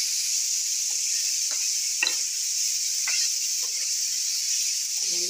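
Sliced seedless tomatoes are being stirred into an egg mixture in a pan, giving a few soft, scattered scrapes and taps over a steady, faint sizzling hiss.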